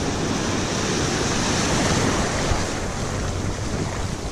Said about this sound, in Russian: вы видели волны какие?